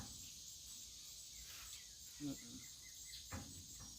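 A steady, faint high-pitched insect buzz, like a cicada, continues throughout with a couple of soft knocks.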